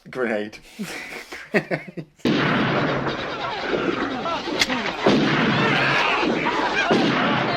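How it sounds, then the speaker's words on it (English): Sudden loud explosion from a grenade in the film World Gone Wild, a sustained roaring blast that follows a few seconds of speech and laughter, then rumbles on at full loudness. "Grenade."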